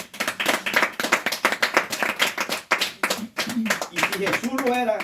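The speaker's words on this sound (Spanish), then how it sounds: "Dale un fuerte aplauso que es para él." A congregation claps loudly in a church service in Baranoa, Atlántico, Colombia, with rapid, fairly steady clapping from many hands while a voice speaks over it and a tone rises near the end.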